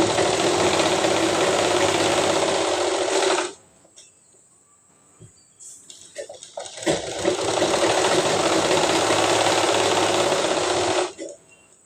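A sewing machine stitches pleats into a semi-Patiala salwar in two steady, loud runs, one at the start and one near the end, with a quiet pause between them.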